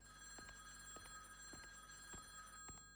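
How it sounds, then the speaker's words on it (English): A telephone rings softly in a home, with regular short electronic trills repeating over a faint steady hum and no talking. "Alright, phone."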